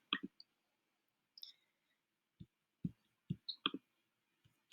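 Sharp computer mouse button clicks, single and in quick pairs, scattered irregularly and close up in a quiet room with no talking.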